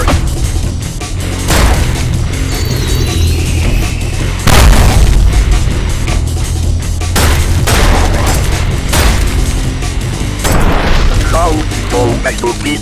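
Repeated booming shots from the piercer gun in ULTRAKILL tearing through enemies, loud blasts and bursts packed closely together amid game action and explosions, with some talking mixed in.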